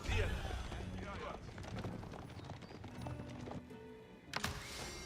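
Knights' horses charging in the video game Age of Empires 4, a rapid, busy clatter of galloping hooves amid battle noise, with a voice talking over it.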